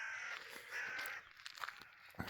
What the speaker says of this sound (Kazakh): қарғалар тыныштықты бұзып жатыр